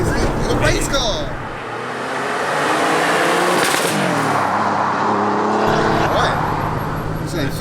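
Old-school Porsche 911 Turbo race car, the Widowmaker, on wide tires, accelerating hard in first gear; the engine roars and climbs in pitch up close, with people talking over it.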